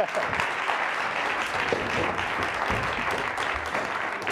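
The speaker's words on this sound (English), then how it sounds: "Give Mike a nice round of applause." Audience applause at a live magic show, a dense steady clapping from a crowd that carries evenly throughout.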